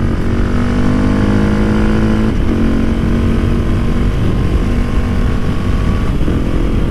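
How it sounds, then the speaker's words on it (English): Motorcycle fitted with a Wings aftermarket exhaust, Rade intake and PCV tuner, riding along with a loud, steady engine drone whose pitch shifts slightly, mixed with constant rushing air. "I hope you can hear a bit of this exhaust. It sounds amazing."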